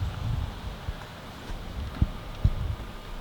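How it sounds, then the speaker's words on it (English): Steady wind buffeting while a DJI FPV drone flies fast outdoors, a broad low rumble and hiss with a few sharper gusts thumping the microphone near the end. "We got a lot of wind here."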